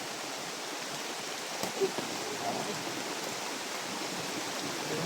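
Rain falls in an even, continuous wash of soft hiss at moderate distance, steady from start to finish apart from a couple of brief small knocks.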